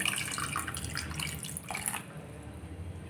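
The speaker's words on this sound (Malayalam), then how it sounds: "ഇനി ഞാനിവിടെ ഫസ്റ്റ് പാൽ ഒഴിക്കാം." First coconut milk is poured into a clay pot for a Thrissur-style fish curry, a continuous close liquid pour with faint dripping and splashing that eases off partway through.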